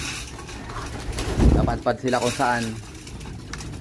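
Racing pigeons back from a self-toss training flight coo in a short burst of soft, throaty calls near the listener, with someone talking around them.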